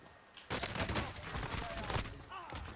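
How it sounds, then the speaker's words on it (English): Rapid pistol gunfire in the shooter Warzone: a dense, loud burst of repeated shots starts abruptly and keeps going for over two seconds with hardly a pause, beneath faint game noise. "I don't like spamming this pistol"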